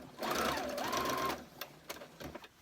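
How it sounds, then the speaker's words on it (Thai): A sewing machine runs in one continuous whirring burst while stitching fine pleats in fabric, close and steady, then stops, followed by a few small clicks and taps. "มาดามจะเย็บให้ดูห้าหกเกตนะคะ"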